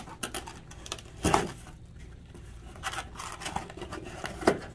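Cardboard tabs on a BCCA can tote being folded in by hand, giving crisp rustles and scraping rubs in a few short bursts, close up with no voices.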